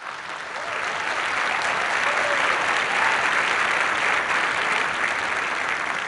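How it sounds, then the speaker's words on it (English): Sustained audience applause at a United Nations event honoring Israeli Ambassador Ron Prosor, a dense, even wash of many hands clapping that swells after the first second and holds steady, with no talking. "He sure deserved this applause"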